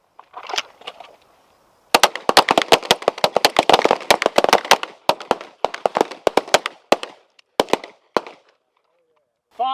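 Handgun fire on an outdoor performance shooting course: a dense barrage of sharp, loud cracks in rapid, irregular succession, tapering to scattered shots, with a brief voice at the very end.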